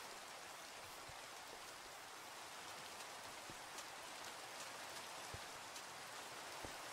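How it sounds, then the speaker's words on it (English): Soft, steady rainfall in Minecraft, with scattered drops pattering on a surface, fairly quiet and continuous with no voices. "Raining."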